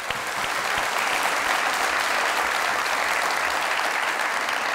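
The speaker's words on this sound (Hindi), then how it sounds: "जोरदार ताली" Loud, sustained applause from a studio audience on a comedy talk show, a thick continuous wash of many hands clapping without pause or talk.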